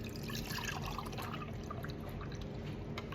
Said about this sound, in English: now I'm going to pour it into this plate, serving plate